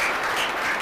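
At a felicitation ceremony, a group applauds a teacher in a brief, dense burst of clapping that stays close and steady for under a second.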